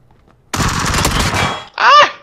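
Gunfire from the battle royale game PUBG: a dense, sustained burst of automatic shots lasting about a second, followed by a short sharp cry or shout after a brief gap.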